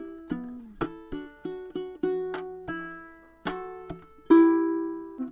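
Plucked ukulele notes in a fingerstyle riff, with a strummed swipe, a percussive wrist thump and a sliding note, about a dozen clear attacks ringing out one after another, close and alone.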